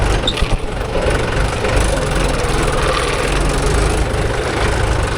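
A Swaraj 855 tractor engine runs with a loud, steady low rumble close by, continuous throughout with no clear talk.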